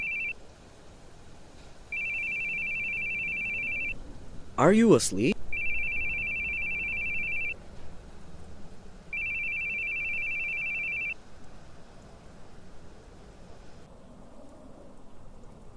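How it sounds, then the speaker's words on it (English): A phone rings in the video game The Boogie Man: three long, evenly spaced electronic ring bursts with a rainy, thundery background, and a voice briefly speaks between the first and second rings. "Your phone's ringing."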